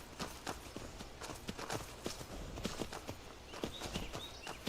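Horse hooves clip-clop at a steady trotting rhythm in the video game Skyrim, fairly faint and even, with no talking over them.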